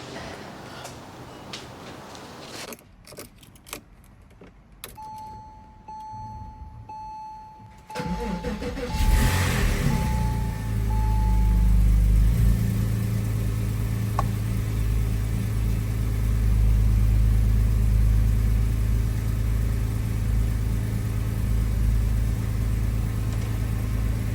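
A Porsche 986 Boxster engine cranks and fires after winter storage, catching around eight seconds in with a rev flare, then settling into a loud, steady idle; some quiet rustling and a faint tone come before the start.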